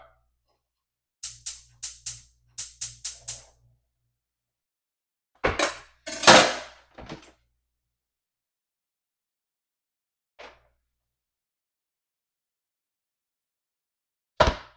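Chopped tomatoes drop into a cooking pot in a few bursts of soft clatter and thuds, with a quick run of knocks early on and isolated clanks later, close by in an otherwise quiet kitchen.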